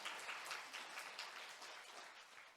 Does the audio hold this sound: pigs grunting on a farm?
no